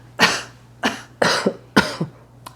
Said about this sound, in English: put your fingers and thumb in there and then make a cough